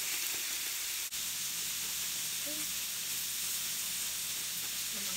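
Kimchi fries in a pan with pork belly, giving a steady close sizzle and hiss with a single sharp clack near the start. No talking.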